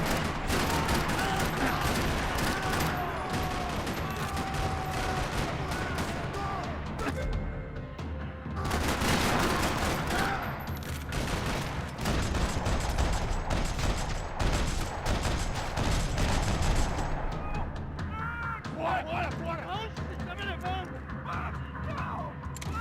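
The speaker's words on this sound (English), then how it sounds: "Another parking lot rattling with gunfire." Gunfire rattles through a parking lot in the video game Max Payne 3, dense bursts and shots layered with music and effects, loud and continuous with brief lulls; a voice speaks partway through.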